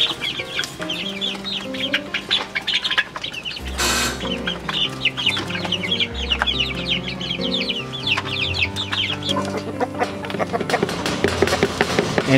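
Hens in a backyard flock cluck and chatter steadily alongside black soldier fly larvae, with busy overlapping calls at close range and bursts of wing flapping.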